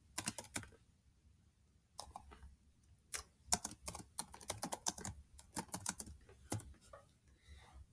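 Someone types a document name on a Chromebook keyboard, producing quick bursts of soft, close key clicks with short pauses between groups of keystrokes in a quiet room.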